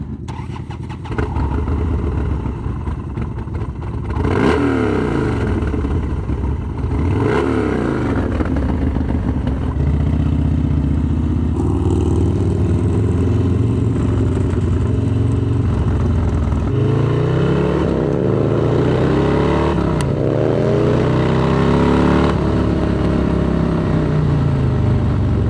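A worn Harley-Davidson Dyna motorcycle, an FXDLS among them, is ridden on an open road on a winter day, its loud engine rumbling steadily while revs rise and fall through repeated gear changes and wind noise.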